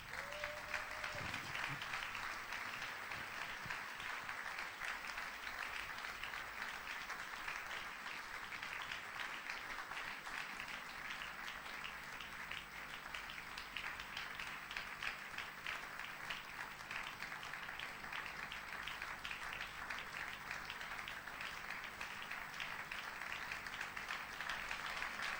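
A church congregation applauding: sustained, dense clapping from a large crowd in a hall. It runs steadily and evenly for the whole stretch, with a brief tone near the start.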